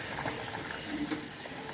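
Falafel balls frying in hot oil, a dense continuous crackling sizzle with tiny popping bubbles, steady and close throughout.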